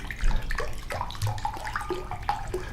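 Spring water pours into a container while making almond milk in a kitchen, a steady splashing, gurgling stream, close and moderately loud with no talk over it.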